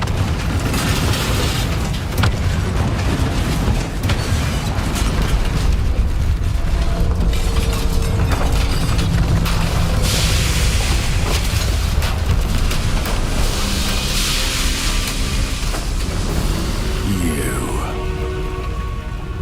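Fiery spell explosions and magical combat effects from the video game Hogwarts Legacy, a dense loud stream of blasts, crackles and mechanical clatter filling the whole stretch with steady intensity.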